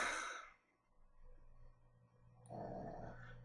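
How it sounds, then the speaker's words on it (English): A pet dog snores and breathes heavily nearby, with a rough exhale at the start, a quieter pause, then another low rumbling snore toward the end, heard alone in a quiet room. "My freaking dog's snoring this whole time."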